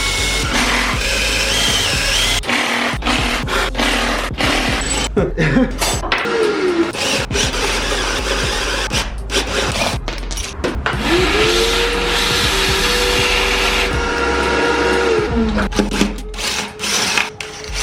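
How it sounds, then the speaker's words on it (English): Power drill boring a larger hole through a pilot hole on an LS Blazer brake job: a loud, continuous grinding whir close by, with the motor pitch dipping and rising as the bit bites and eases off, and no talk. "we'll have a pilot hole to drill our larger hole"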